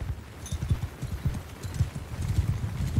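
Horse hooves clip-clop in the Mount & Blade 2: Bannerlord video game, a quick, uneven run of low thudding steps at moderate distance, continuous over a faint background wash.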